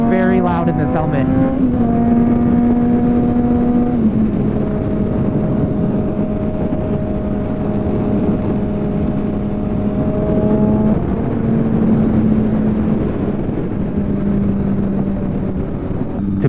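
Inside the helmet of a Honda CBR600RR motorcycle cruising at around 65 mph, a loud, constant wind roar blends with a droning engine tone that shifts pitch as gears change, continuous and close.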